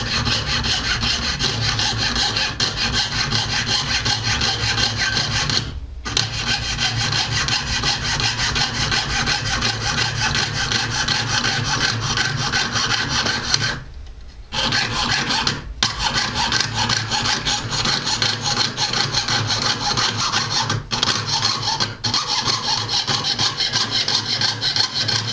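A jeweler's saw cuts metal in goldsmithing work, a close, rapid rasping stroke rhythm continuing for a long stretch, broken by a few brief pauses.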